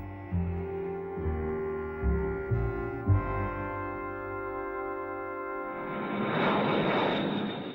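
B-52 bomber jet engines drone steadily with layered tones, swelling into a loud roaring rush near the end, with no voices.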